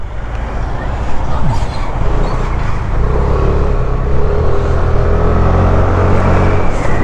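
A heavy truck rumbles close by with a deep, steady engine drone and road noise that swells slightly as it passes.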